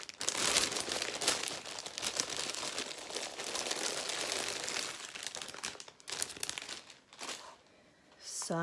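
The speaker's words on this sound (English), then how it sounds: "So excuse some crinkling while I just open this up." Plastic packaging crinkles and rustles almost continuously as a Luna Lapin Festive Friends craft kit is opened close by, with a few pauses and a brief voice near the end.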